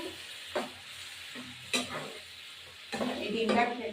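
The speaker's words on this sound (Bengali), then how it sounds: "ডিম ভাজা আর কি পেঁয়াজ দিয়ে আদা রসুন থেতো করে একদম ডিম কষা ভাজা" Eggs being stir-fried with crushed onion, ginger and garlic in a pan, with a few scraping stirs and a steady soft sizzle that swells toward the end, close by.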